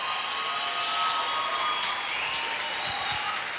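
Steady, dense applause from a church conference audience, a continuous broadband wash of many hands clapping at a moderate distance, with no voices standing out.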